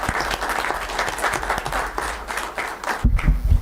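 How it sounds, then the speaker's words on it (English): Audience applause fills a county commission meeting, a steady wash of many hands clapping that continues throughout, with a louder low thump near the end. "Let's give them one more round of applause"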